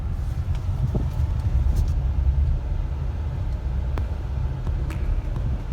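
Hyundai Venue DCT petrol car, a 2020 model, turning left into a U-turn, heard from inside as a steady low road and engine rumble with no talk.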